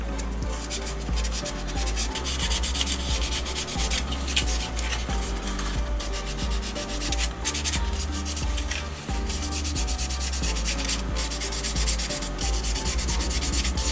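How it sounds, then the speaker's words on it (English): Steady abrasive rubbing as sandpaper scuffs the plastic body of a 1/24 scale Audi R8 GT3 model kit, continuous and close, with no pauses or voices. "I roughly sand the whole body to create some tooth for the paint to stick on"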